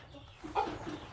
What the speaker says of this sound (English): Looks like we got a rooster and some hens.